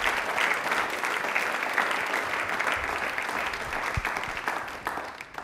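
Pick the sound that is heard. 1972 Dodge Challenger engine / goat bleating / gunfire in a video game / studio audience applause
studio audience applause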